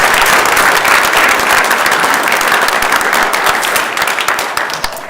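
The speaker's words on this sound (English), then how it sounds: "Please give them a nice round of applause." A crowded senate floor session breaks into loud, dense applause for newly elected senators, many hands clapping close and steadily before the sound thins into scattered claps near the end.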